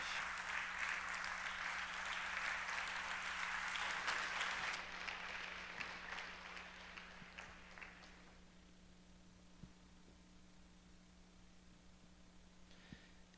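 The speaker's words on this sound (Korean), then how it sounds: "우리 박수로 축복하며 우리 환영하겠습니다" Church congregation at a Wednesday service clapping to welcome a pastor, a dense wash of applause that holds for about five seconds, then tapers and fades into quiet room tone.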